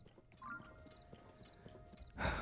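A horse in the video game Zelda: Tears of the Kingdom trots with soft, faint clip-clop hoofbeats, ending in a louder, brief snort or whinny-like burst.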